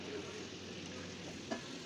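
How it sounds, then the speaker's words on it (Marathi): Sabudana vadas frying in hot oil give a steady, dense, close sizzle that hardly varies, with one faint bump near the end. "सगळे वडे आपण तळून घेऊयात"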